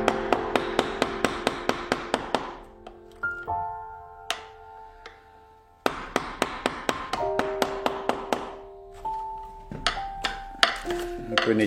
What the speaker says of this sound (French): je vais utiliser le levier du ciseau avec le bouvet pour faire levier à chaque fois